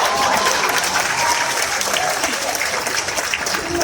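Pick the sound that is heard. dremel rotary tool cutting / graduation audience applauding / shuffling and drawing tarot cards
graduation audience applauding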